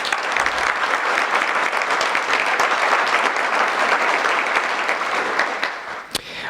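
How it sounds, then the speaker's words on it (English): A hall of fame ceremony audience gives sustained, steady applause at full strength for university athletics inductees, a dense wash of clapping that holds throughout and dips only briefly near the end. "One more round of applause for all of them."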